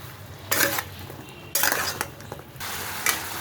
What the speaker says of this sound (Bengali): দিয়ে এখন একটু ভালো করে নাড়াচাড়া করবেন